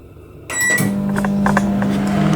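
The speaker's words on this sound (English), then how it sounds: "We'll put it for 30 seconds in the microwave" A kitchen microwave oven running for a 30-second heating cycle: a click at the start, then a steady low electric hum with a whirring fan and faint rattles, close by and continuous, with nobody speaking.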